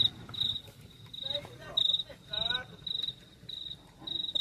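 Crickets in the countryside at night beside a campfire give a steady, regular chirping pulse, nearby and fairly clear, with faint low background murmur and brief voice-like sounds underneath.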